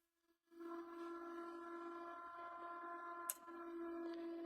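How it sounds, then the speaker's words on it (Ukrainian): After a brief silence, a Luxeon UPS1000ZD uninterruptible power supply's alarm gives a steady electronic tone that holds continuously, with a short click partway through as the unit starts up. "Чуємо звукову сигналізацію та старт приладу."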